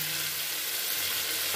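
Spices, salt, turmeric, chili powder, sugar and tomato sizzle in hot oil in a pan while being stirred, a steady close frying hiss with no talk.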